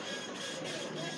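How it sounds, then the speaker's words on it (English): A printer hums and whirs steadily in the background at San Diego International Airport, a continuous even mechanical drone with no pauses, moderately loud. "It's like a printer going off behind me."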